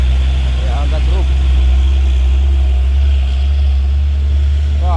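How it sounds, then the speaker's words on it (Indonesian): A stone-hauling truck's engine idles with a steady low rumble throughout, while someone speaks briefly over it. "Wah, ini mobil batu jomba bosku."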